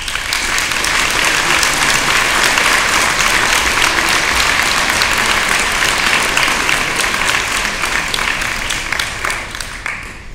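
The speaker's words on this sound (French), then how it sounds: "vous pouvez, je pense, les applaudir" A hall full of people at a municipal council meeting bursts into loud, sustained applause, dense rapid clapping that holds steady for about ten seconds before easing slightly at the end.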